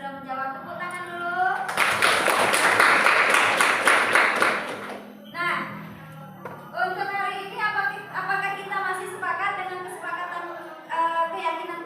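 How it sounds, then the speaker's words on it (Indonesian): Students in a classroom break into a burst of dense clapping lasting about three seconds, bracketed by a teacher talking before and after. "Tepuk tangan dulu."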